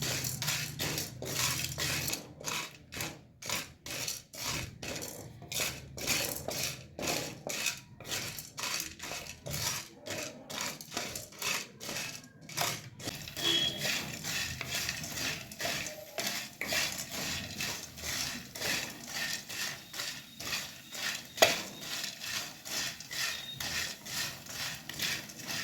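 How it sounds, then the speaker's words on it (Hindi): Gond (edible gum) being slowly roasted in a pan until it puffs and pops like popcorn, giving a dense run of crackling, scraping and rattling close up, with bursts of rapid ticks and one sharper pop near the end, no voices. "अब इस गोंद को हम धीरे धीरे सेकेंगे, जैसे पॉपकॉर्न फूटते हैं वैसे इसकी आवाज़ आएगी।"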